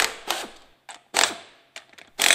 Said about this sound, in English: He loosens the suction cover screws.